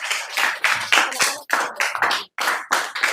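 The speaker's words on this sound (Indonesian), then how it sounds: "Tepuk tangan dulu sebelumnya." Classroom students clapping together at the end of a lesson, with loud, close claps coming in short rhythmic bursts separated by brief gaps.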